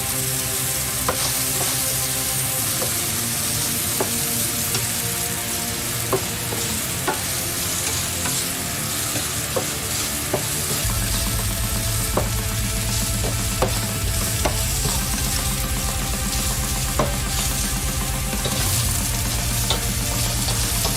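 Dehydrated vegan meat seasoned with pepper fries in a pan, giving a constant close sizzle broken by repeated scraping strokes as a utensil stirs it, and no voices are heard.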